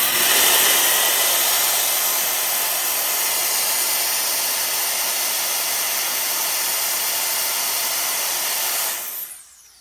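JKUOO mini turbo jet fan blowing hard with a loud, steady high-pitched whooshing hiss that holds constant before cutting off abruptly near the end.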